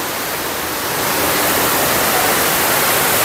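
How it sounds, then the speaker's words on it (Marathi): Thoseghar waterfall roars with foaming water, a loud, continuous broadband rush that swells slightly after the first second and then holds steady. "सुंदर असं फेसाळलेलं पाणी आणि धबधब्याचं असं सुंदर असं दृश्य"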